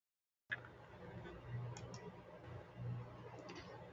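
Several people type on computer keyboards at once in a quiet room, giving a soft, steady patter of faint clicks for a few seconds.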